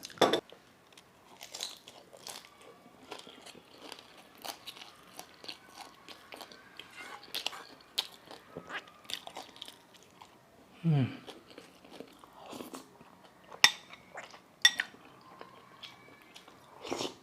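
Pan-fried buns are bitten and chewed close to the mic in a series of crisp crunches and soft, squishy bites spread over a long stretch. The bites come at an irregular pace with quiet gaps between them.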